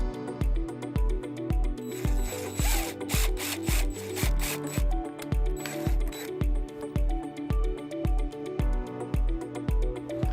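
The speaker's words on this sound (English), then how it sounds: "We're gonna be using a drill to drill both of our holes for our hardware." A power drill boring holes for trailer wiring bracket hardware on a 2020 Mazda CX-5, a steady loud whirring with repeated rhythmic pulses through the whole stretch.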